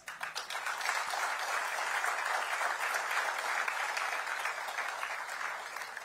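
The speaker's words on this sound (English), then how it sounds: "so they deserve a big applause" An audience at a singing competition final applauds steadily, dense clapping filling the whole stretch at a fairly even, moderate loudness with no voices on top.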